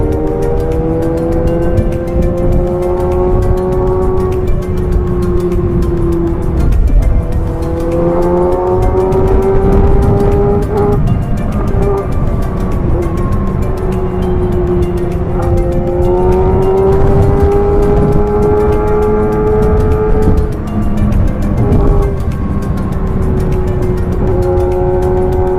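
A large group of Kawasaki, Suzuki and Honda motorcycles pulls away on a year-end group ride in Bolinao, Pangasinan, their engines droning loud and steady with repeated rising revs as bikes accelerate off one after another.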